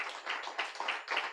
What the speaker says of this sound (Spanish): Si quiere, dele fuerte aplauso,